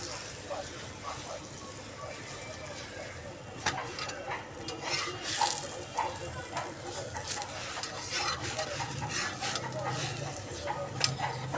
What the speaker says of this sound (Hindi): इसको मैं अच्छे तरीके से घी लगाकर फ्राई कर रही हूँ